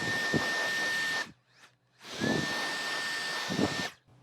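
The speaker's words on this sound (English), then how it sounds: "But no, this is an actual blower." A Wolfbox MF100 cordless duster blower runs in two loud, close bursts of rushing air with a steady high whine, separated by a brief quiet pause.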